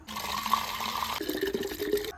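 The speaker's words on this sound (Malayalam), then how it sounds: "ഇത് ഒരു ലിറ്ററിൻ്റെ ഒരു ബോട്ടിലാണ് അതുകൊണ്ട് ഇതിനകത്തേക്ക് നമ്മൾ വെള്ളം ഒഴിക്കുവാണ്" Water pours steadily into a one-litre plastic bottle, mixed for a garden sprayer. The gurgling pitch rises as the bottle fills, then shifts partway through to a lighter trickle, with nothing else heard.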